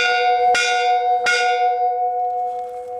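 A small farm bell, ten inches or under, is struck twice about three-quarters of a second apart, each clear metallic clang ringing on and slowly decaying, loud and close with nothing else heard.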